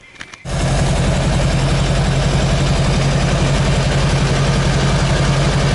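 A Fusca engine starts and then idles steadily during a vacuum test, a loud continuous low rumble that carries on without change.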